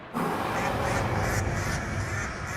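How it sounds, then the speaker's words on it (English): A duck call filled with spiders sounds its Haunting Quack in Shadows Over Loathing, a dense, buzzing, harsh quack-like noise lasting a couple of seconds, fairly quiet and heard alone. "That is not what I imagined a duck call with spiders in it would be"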